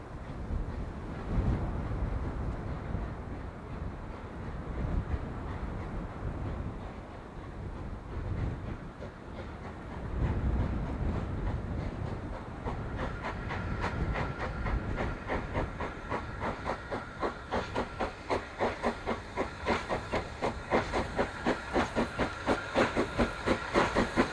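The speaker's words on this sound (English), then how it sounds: "we see Renishaw hauling the empty coaching stock back to Marley Hill Shed." A locomotive named Renishaw hauls empty coaching stock back to Marley Hill Shed on the Tanfield Railway in snow, with steam hissing and building into a rhythmic clickety-clack of wheels that grows louder and more regular as it nears.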